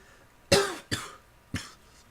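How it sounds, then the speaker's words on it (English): Three sharp coughs from a person with a cold, close and loud, the first two in quick succession and the third after a short pause. "sorry if I'm coughing"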